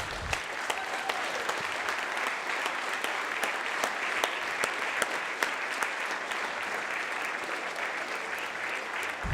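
Warm applause for former Representative Jackie Sly on the South Dakota House of Representatives floor, a steady roomful of clapping that holds for the full stretch with a few sharper claps standing out.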